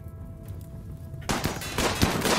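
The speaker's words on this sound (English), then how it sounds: "Minigun." Rapid sustained automatic gunfire from a minigun in the colony-building video game Rimworld, a dense loud roar of shots bursting in partway through and continuing to the end.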